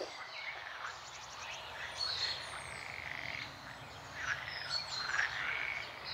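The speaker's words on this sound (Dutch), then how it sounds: "Hoor je de kikkers?" Frogs croak in a dense, continuous chorus outdoors, rippling and pulsing without pause and close enough to stay loud throughout.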